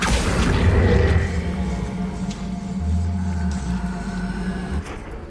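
Spells Levioso, Depulso and Accio cast one after another in Hogwarts Legacy, heard as dense booming whooshes and impacts that swell and fade over a steady rumbling backdrop.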